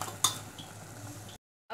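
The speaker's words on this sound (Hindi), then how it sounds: "अब इसमें थोड़ा सा ऊपर से थोड़ा गरम मसाला डाल दीजिए और हल्का सा इसको चलाइए।" Bottle gourd curry being stirred in a pressure cooker pot, a spoon scraping and clinking against metal in a steady close stir with a sharp clank near the start, then a brief pause before stirring resumes.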